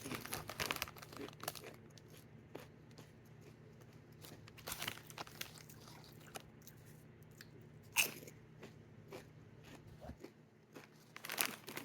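Doritos Tangy Ketchup corn chips bitten and crunched close up, with sharp crackling bites at irregular intervals and quieter chewing and bag crinkle between them, no talk.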